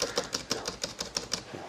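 A computer keyboard key is tapped about ten times in quick, even succession. The crisp, close clicks are fairly quiet, with no voices.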